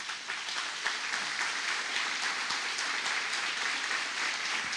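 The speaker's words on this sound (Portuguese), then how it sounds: "Aplauda bem forte ao Senhor." A crowd applauds steadily throughout, a dense wash of clapping with no speech over it.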